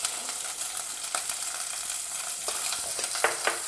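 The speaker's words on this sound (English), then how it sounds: "Add some mustard seeds, jeera, hing" Mustard seeds, cumin and hing sizzle in hot oil in a pan, a steady close crackling hiss broken by sharp sputtering pops and a few stirring scrapes, with no voices.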